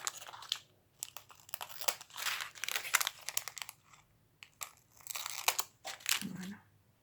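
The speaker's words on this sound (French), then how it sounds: "Je vais découper les sachets." Small plastic packets of diamond painting beads are cut open and handled, giving bursts of close crinkling, rustling and snipping that come and go over several seconds.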